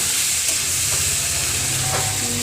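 Chicken curry with potatoes stirred in a covered pan, a steady close sizzling hiss with soft scraping knocks from the stirring running throughout.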